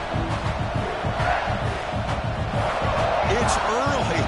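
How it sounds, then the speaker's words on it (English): Stadium crowd roaring continuously in a College Football 26 game between Pitt and South Carolina, a dense, loud wash of cheering that holds steady throughout, with a voice talking over it. "It's early, but this crowd is fired up. Listen to this noise here."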